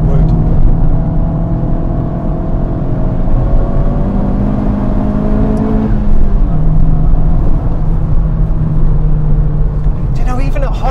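Honda Civic Type-R FK8 engine pulling steadily while driving, a loud continuous drone whose pitch climbs and shifts around a gear change, heard from inside the car with people talking over it.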